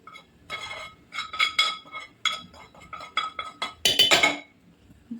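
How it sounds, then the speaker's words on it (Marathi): Roasted grated coconut goes into a mixer jar with a series of light, close clinks and taps against the jar, irregular and spaced across several seconds, with no talk. "मिक्सरच्या भांड्यामध्ये खोबरं भाजलेलं टाकूया."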